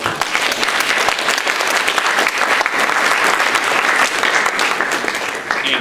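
Students at a National Technical Honor Society ceremony give faculty and staff a loud, sustained round of applause, dense clapping filling the room throughout with little talk.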